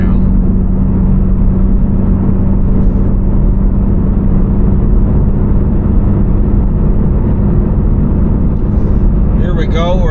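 Toyota GR86/Subaru BRZ with an AWE Touring exhaust cruising and accelerating on a highway around 70 mph, a loud, steady low engine drone and exhaust hum with road rumble throughout, and a voice talking faintly near the end.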